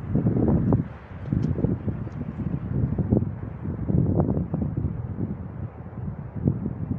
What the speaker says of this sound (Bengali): ঠান্ডা হাওয়া